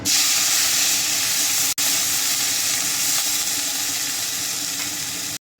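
Onion paste dropped into hot oil in a pan used for frying rohu fish, a loud close steady sizzle and hiss that runs on with a brief break near the start, then cuts out near the end.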